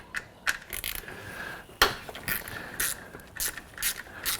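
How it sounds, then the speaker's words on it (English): A swivel socket ratchet loosening a 10 mm fastener holding the engine harness on a Honda J-series engine, quick bursts of clicking pawl ratchet strokes with small metallic knocks, close and clear. "I'm going to remove that now. And I'll be using my swivel socket."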